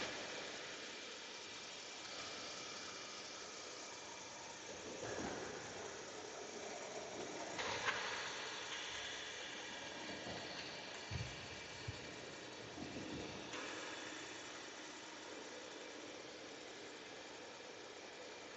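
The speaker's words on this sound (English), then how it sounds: "let this car go around" Car engine idling and rumbling steadily nearby while other cars drive around past it on a road in Terrell, Texas, with a few brief louder swells of passing traffic.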